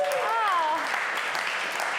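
Applause from an audience at a marketing awards event, broad clapping noise running steadily, with a brief sung or whistled tone sliding over the start.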